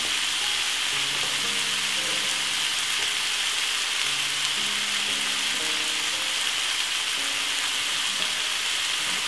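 Tuna pasta sauce with ketchup and pepper sizzles steadily in a pan while being stirred, a dense, continuous frying hiss with faint scraping underneath, close and fairly loud.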